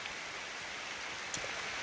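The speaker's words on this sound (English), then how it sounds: "As soon as this rain starts coming down" Steady rain falls outdoors where a family and friends have gathered, a dense even hiss of drops with no voices, holding at a moderate level throughout.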